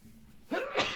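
A single close, sudden human sneeze, a quick sharp breath followed by a louder burst, heard alone against a quiet background.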